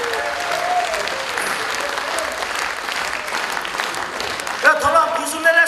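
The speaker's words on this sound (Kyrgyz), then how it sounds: "Кол чаап койсоңуздар, бар болуңуз эжеде." An audience claps at a Kyrgyz stand-up comedy show. Dense, steady applause fills the room while a voice speaks over it, and the clapping swells slightly toward the end.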